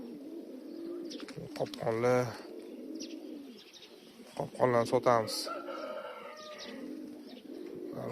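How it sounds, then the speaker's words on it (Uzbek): Home-kept pigeons coo in a soft, low rolling murmur throughout, with someone speaking over them in two short bursts and a few brighter chirps. "O'zim uyimdagi kaptarlar bular"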